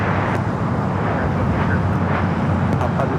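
A Boeing 787-9 Dreamliner jet airliner takes off from the south side of Los Angeles LAX airport, heard as a steady, loud broadband engine roar with no breaks.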